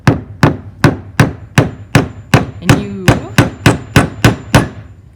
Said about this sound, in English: You're going to grab a nail and a hammer. And I always start in the middle, and you're gonna pound it in